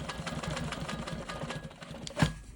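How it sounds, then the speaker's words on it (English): A Quilt Maker Pro 20 long-arm quilting machine stitches in the ditch on a rainbow quilt block, a fast, steady mechanical whir and rattle at moderate volume with a brief thump near the end. "I need to come over here and I need to stitch in the ditch right here also"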